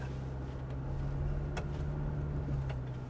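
A GWM Tank 500 Ultra PHEV hybrid SUV climbs a steep off-road ascent under constant throttle, its drivetrain holding a steady, low droning hum inside the cabin with faint creaks and knocks.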